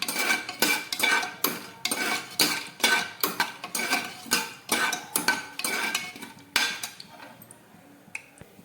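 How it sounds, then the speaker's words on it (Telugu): Whole spices frying in hot oil in a pressure cooker, heard as a quick, regular run of metal spoon clanks and scrapes against the pot that stops near the end. "వీటిని బాగా ఫ్రై చేసుకోవాలి."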